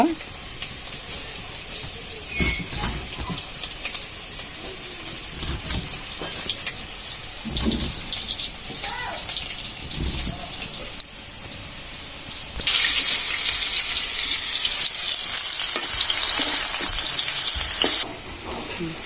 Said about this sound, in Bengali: আলু ভাজা হতে থাক